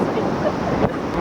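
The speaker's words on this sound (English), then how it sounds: "Boy, it's windy up here. You can hear the wind." Wind gusts buffet the microphone high up at an amusement park, a brief steady rush of broadband noise with no voices.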